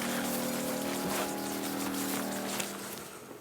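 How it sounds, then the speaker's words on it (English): A solar-powered 12-volt water pump feeding garden sprinklers hums with a steady low tonal drone under a wash of spraying water, continuous and close, fading slightly toward the end. "they're hooked up directly to a 12-volt water pump, and that'll turn on these sprinklers"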